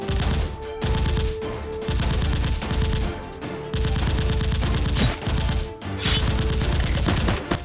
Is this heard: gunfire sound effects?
yes